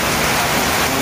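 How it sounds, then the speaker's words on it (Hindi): Steady, dense rainfall pours down continuously at close range, a loud broadband hiss of drops striking surfaces with no voices present. "बारिश बड़ी हुई है"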